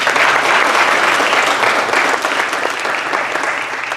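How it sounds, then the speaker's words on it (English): Applause from the audience at a county supervisors' candidate forum for District 1: thick, even clapping from a full room that holds steady for four seconds with only a slight easing at the end. "we can give them a round of applause if we could"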